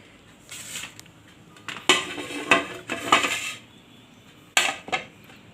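A knife cuts a very ripe, peeled papaya on a dish, with sharp metallic clinks and scrapes in uneven bursts, close and moderately loud, separated by short quiet pauses.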